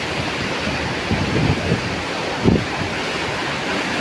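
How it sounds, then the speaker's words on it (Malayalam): Sea waves crash against black rocks along the shore, a loud continuous roar of surf with wind noise on the microphone and a couple of heavier breaking surges. "തിര നോക്കിയാട്ടെ തിര"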